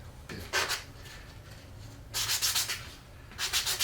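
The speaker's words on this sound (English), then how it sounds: "Sand, sand, sand, sand." Hand sanding a segmented wooden Christmas ornament, with three bursts of brisk back-and-forth abrasive rubbing separated by quieter handling, close and fairly loud with no talk.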